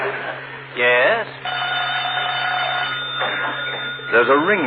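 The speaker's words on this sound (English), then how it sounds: "Oh, that's the phone" A telephone rings in the old-time radio comedy Fibber McGee & Molly, a bright, sustained bell tone that alternates with bursts of voices.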